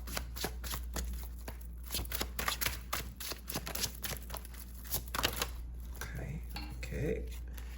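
A deck of tarot cards is shuffled close by in a string of crisp riffling clicks and taps, with a low hum underneath and faint movement toward the end.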